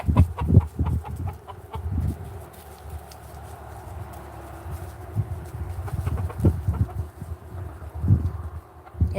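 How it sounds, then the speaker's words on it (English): A talkative farm hen clucks in scattered, close, uneven bursts, with quieter stretches between them and some scuffling. "She's probably my most vocal chicken."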